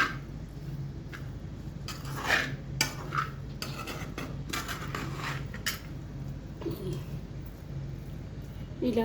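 A spoon stirs potato pickle (aloo pachadi) in a bowl, giving repeated soft scraping and clinking strokes close by, steady across the stretch with a low hum underneath and no talking.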